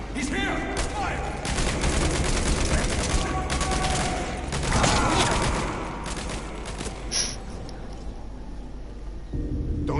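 Dense bursts of gunfire in the Metal Gear Solid V game crackle loudly in rapid volleys with rumbling booms, and voices are heard amid the shooting before it thins out.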